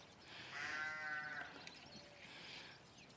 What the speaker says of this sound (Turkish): Analı kuzu, kınalı kuzu.